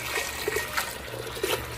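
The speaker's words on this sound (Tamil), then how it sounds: "இப்போ இதெல்லாம் நல்லா முழுகிற மாதிரி நம்ம தண்ணி சேர்த்துக்கலாம்." Water poured into a pot holding pumpkin and tomatoes for sambar, a short steady splashing and gurgling stream, close and moderately loud.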